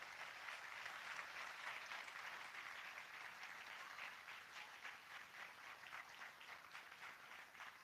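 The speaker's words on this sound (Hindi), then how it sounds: "इस बच्चों के लिए जोरदार तालियां हो जाए" A school audience applauds a children's performance, a steady wash of many hands clapping at a distance, faint and sustained without voices.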